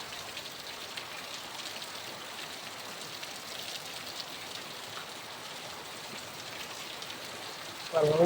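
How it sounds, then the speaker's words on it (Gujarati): Heavy rain pours in a steady, even hiss, with dense drops drumming on surfaces close by and no pauses. At the very end a brief louder sound cuts in. "વરસાદ કેવો પડે જો"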